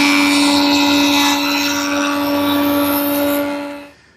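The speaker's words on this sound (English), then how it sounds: "one cleanup pass at the joiner on that freshly sawn edge" A woodworking jointer takes one cleanup pass over a freshly sawn wood edge, a loud steady high-pitched whine with strong tonal hum that runs nearly four seconds before cutting off and winding down.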